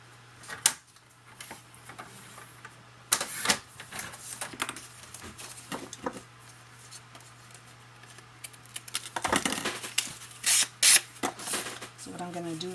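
Paper being cut by hand for a scrapbooking mini album, heard as a few short snips and rustles of handled paper, close by, with a person talking between the sounds.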